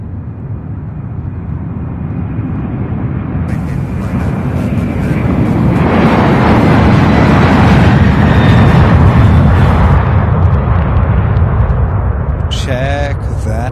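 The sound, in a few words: UPS cargo plane, likely 747, taking off at Louisville airport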